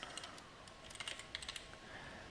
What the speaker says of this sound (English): My three-finger typing method is slowing us down here